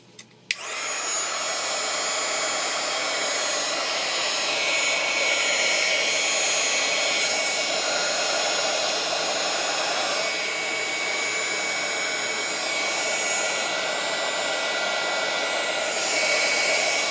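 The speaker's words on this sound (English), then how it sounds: "I'm going to get my heat gun out and dry it." A heat gun blows hot air to dry paint on a decorated Easter egg, switching on with a click and then roaring loud and steady at close range for the rest of the stretch.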